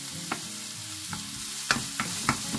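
Onion and pepper frying gently in a pan with a pinch of salt, steady soft sizzle punctuated by several sharp taps and scrapes of a spoon stirring the vegetables.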